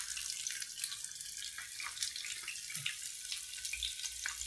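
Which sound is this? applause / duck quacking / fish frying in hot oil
fish frying in hot oil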